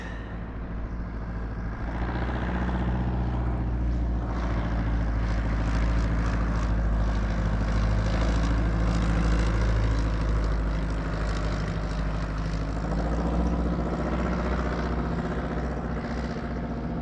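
A propeller airplane makes a flyby over water during a Florida crappie fishing trip, its steady, loud engine drone building and holding for the whole stretch before easing slightly, with no talking over it.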